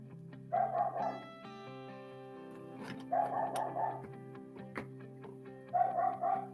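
A dog barks in three quick clusters of rapid barks, somewhat distant and muffled, with a constant hum underneath.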